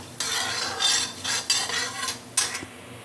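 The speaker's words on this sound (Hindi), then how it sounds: "तो इन सभी को हम अच्छे से भूनेंगे।" Red chillies with urad and chana dal roasting in a tempering are stirred in the pan. Several distinct scraping strokes rise over a faint background sizzle.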